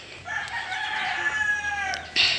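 A backyard rooster crows nearby, a loud drawn-out call followed by short clucks, with a sharper burst of sound at the end.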